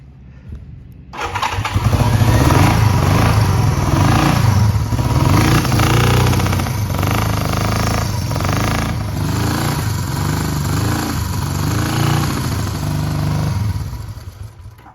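A 1973 Honda CB350 motorcycle engine, with no spark on one cylinder, cranks and fires after a moment, then runs loud and close with an uneven, lumpy, single-cylinder beat for over ten seconds before dropping off.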